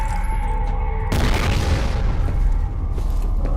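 A grenade blast in a first-person shooter video game: a single sudden, loud boom that cuts in abruptly and rumbles on with crackling debris for a couple of seconds before fading.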